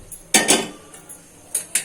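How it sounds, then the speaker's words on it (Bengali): A metal kadai is set down on a home gas stove before cooking semolina, giving one sharp, loud clank followed by two lighter metallic knocks, close by in a quiet kitchen. "কড়াইটা চাপিয়ে দিয়েছি।"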